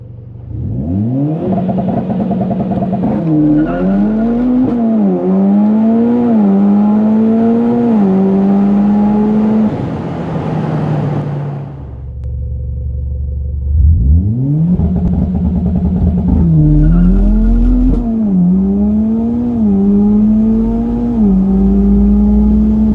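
A Mitsubishi Evo X MR with an upgraded TCU 9000 launches from about 5500 rpm, engine roaring loud and close through rising gear pulls, then a brief lull before a second hard launch climbs through the gears again.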